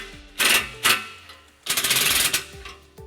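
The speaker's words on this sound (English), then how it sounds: "we're going to retighten that clamp using our 15mm socket" Ratchet clicking in short bursts as a 15mm socket retightens an exhaust clamp during a trailer hitch install on a 2016 Nissan Altima; four or five quick spurts of clatter with brief pauses, close up, no talking.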